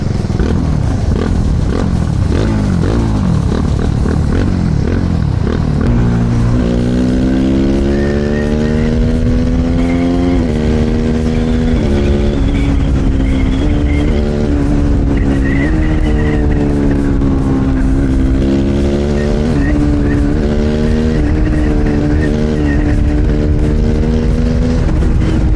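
A TVS Apache RR 310 motorcycle engine in track mode roars and revs up and down continuously, with rising and falling pitch sweeps, close and without talk.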